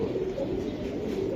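Racing pigeons cooing close by in a loft, a steady low murmuring coo that runs continuously through the short stretch with no talk over it.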